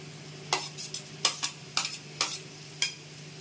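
Zucchini, red capsicum, pumpkin, green chilli and tomato being stirred in a hot pan, giving several distinct scraping strokes over a low, steady sizzle, close and fairly quiet with no talking.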